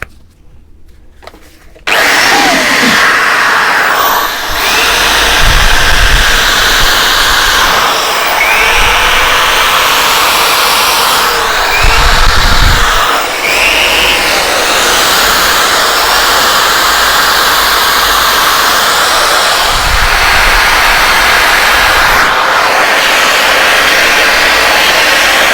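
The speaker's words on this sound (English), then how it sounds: "The drill's quite loud." A loud power drill runs continuously for a long stretch, grinding steadily with a few brief surges, starting abruptly after a short quiet moment, used while refurbishing the front forks of a Suzuki GT750 motorcycle.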